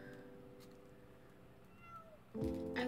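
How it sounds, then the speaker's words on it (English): A domestic cat meowing softly a couple of times under background music, faint and brief, followed by a louder rustling noise nearby. "I love the little meows every once in a while"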